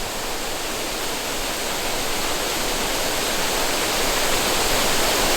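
A steady, dense rush of water pours over the partly frozen waterfall at Sioux Falls, South Dakota, a continuous broadband roar that builds slightly louder over five seconds, with no voices.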